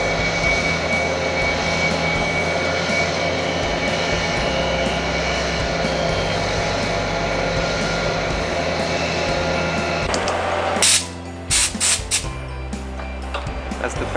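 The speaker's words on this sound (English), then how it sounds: "It's a gang style lathe, so there's no turret" A gang style lathe hums steadily while machining parts, its dense mechanical drone running evenly before cutting off near the end, where a few sharp clicks and clatters follow.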